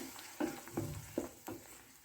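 Ground masala frying in oil in a pan for a traditional no-onion rice dish, with soft crackling sizzle broken by four distinct stirring scrapes at roughly regular intervals, close and fairly quiet.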